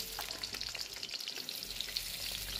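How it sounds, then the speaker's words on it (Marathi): Pricked potatoes fry in very hot oil in a kadhai, giving a continuous bright crackle and sizzle with scattered sharp pops and a faint low hum underneath, all at a fairly quiet level without voices. "तेल चांगलं कडकडीत गरम झालं की मग यामध्ये मी हे सगळे छिद्र पाडलेले बटाटे घालून घेणार आहे"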